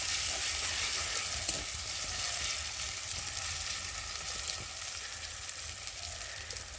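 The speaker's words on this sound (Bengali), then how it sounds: "রসুনটা দিয়ে দিলাম পেঁয়াজের সাথে, একটু ভালো করে ভেজে নেব" Garlic and onion fry in a pan with a steady, dense sizzle, close and continuous, with faint stirring scrapes and no talking.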